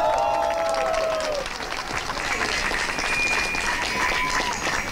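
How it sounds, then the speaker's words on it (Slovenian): A crowd at an outdoor pro-life march in Maribor claps and cheers in sustained applause, with a few whistles rising over it. "Aplavz!"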